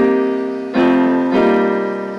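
Piano chords played with both hands in a 1970s-style song, three full sustained strikes spaced evenly, close and clear with no talking.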